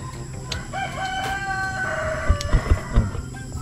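A rooster crows in a rural mountain setting, a drawn-out call near the start followed by shorter clucks and fowl noises, with no talk.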